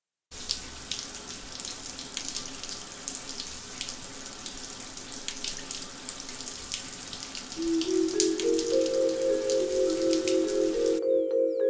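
Water runs steadily from a tap during hair washing, a continuous close splashing hiss that grows fuller and more resonant near the end as the flow changes, with no voices.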